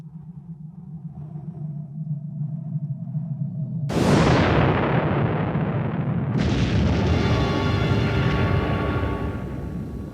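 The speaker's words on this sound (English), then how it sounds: "The atom bomb, spreading its mushroom cloud over Bikini Atoll in 1946" Atomic bomb explosion at Bikini Atoll in 1946: a low rumbling hum, then a sudden loud blast that roars on, with a second surge of crackling roar a couple of seconds later, sustained and heavy.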